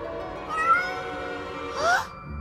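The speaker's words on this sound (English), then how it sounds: "I found the noise. It was Marco's cat!" A cartoon cat meows twice, first a drawn-out mid-pitched meow and then a shorter rising one near the end, loud and close with no talk over it.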